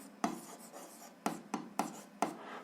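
Pen scratching on paper, faint close strokes with four or five distinct taps and short scribbles at uneven intervals, quiet and otherwise alone.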